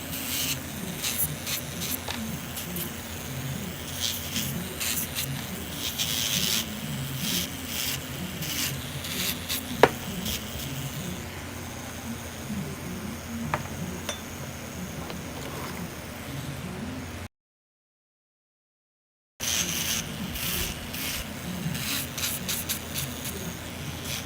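Steady, soft rasping and rubbing from close by as a medium sanding band files fingernails, a continuous abrasive scratching with a rhythmic back-and-forth texture, broken once by a brief silence.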